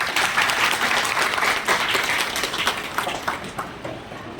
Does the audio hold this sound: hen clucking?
no